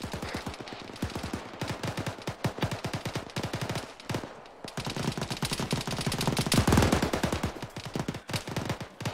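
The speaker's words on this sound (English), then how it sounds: "There's someone in there shooting through all this shit at us." Sustained automatic gunfire in the military shooter ArmA 3, rapid rhythmic bursts of shots firing close and loud, briefly pausing before resuming in dense volleys.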